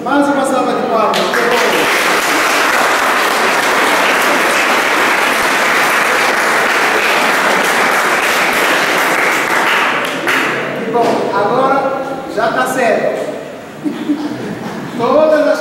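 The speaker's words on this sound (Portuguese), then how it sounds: "Então mais uma salva de palmas." A congregation at a Catholic mass in Santiago Cabeçuda breaks into long, loud applause, a dense sustained clapping that lasts about ten seconds before fading, with voices and light laughter following.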